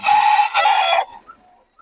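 A rooster crows close and loud in two strong bursts on a farm during rain, followed by a few faint clucks as it trails off.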